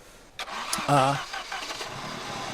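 A Saab car engine cranks and catches, then settles into a rough idle, heard fairly close with a brief burst at start-up and some talk around it.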